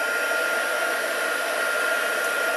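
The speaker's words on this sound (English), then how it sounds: "heat gun on and warming up." A craft heat gun runs continuously as it warms up, a loud, close, steady blowing whir with no pauses.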